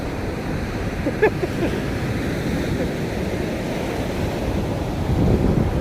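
Sea waves wash at the Kanyakumari sunrise point, where a continuous rushing surf mixes with heavy wind buffeting the microphone, and a brief faint voice can be heard near the start.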